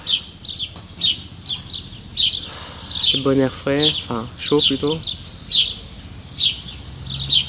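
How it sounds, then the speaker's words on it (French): Birds sing outdoors in warm air, with repeated high chirps and trills throughout, fairly close and clear, while someone talks briefly partway through. "Les oiseaux qui chantent."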